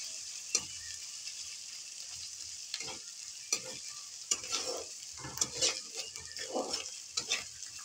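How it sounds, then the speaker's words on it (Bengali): Sliced onion fries in hot oil in a pan, stirred until reddened, with a soft continuous sizzle broken by repeated scraping strokes of a utensil against the pan, close and fairly quiet, with no talking. "ভালো করে পেঁয়াজটা নেড়ে নিতে হবে"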